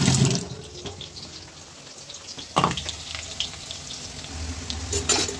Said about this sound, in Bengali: তাও আমি আরেকবার ধুয়ে নিচ্ছি